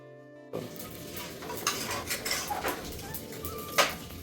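Food sautés in a pan while country-chicken biryani is cooked, giving a steady sizzle with scraping stirs and clinks of a utensil against the pan.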